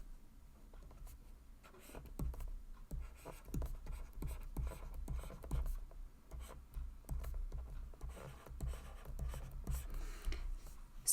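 A pen or pencil scratches out numbers by hand on paper, a close, quiet series of short irregular strokes and taps with small pauses between them.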